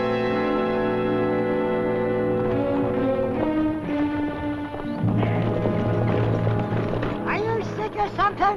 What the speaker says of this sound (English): Gallop them horses.